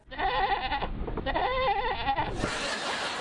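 A goat bleats close by in two wavering cries, followed by a brief rush of noise.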